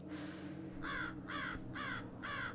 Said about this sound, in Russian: Слышишь эту надоедливую ворону?